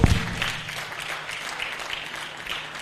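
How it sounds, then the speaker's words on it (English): Audience at an annual conference and exhibition applauds after a keynote presentation; a sustained, even wash of clapping from a sizable room, moderately soft and steady after a brief louder start. "Let's give another round of applause."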